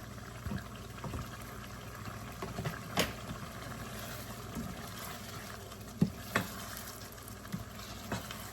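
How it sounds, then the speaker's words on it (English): Onion and bell peppers with cumin simmer in a pan, a faint, steady low sizzle and bubbling with occasional soft clicks and stirring taps, no voices. "I'm going to let this simmer until all of the water from the onion and the bell peppers are gone"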